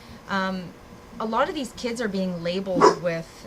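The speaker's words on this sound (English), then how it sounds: "that's just my dog because the garbage man's here." A household dog barks at the garbage collector, several short yips and barks close by, mixed in with a person talking over them.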